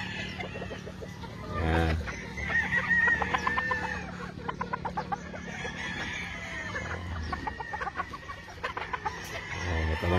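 Vanilla Grey gamefowl roosters on a farm in the Philippines cluck and crow nearby in repeated bursts, with someone briefly speaking between the calls.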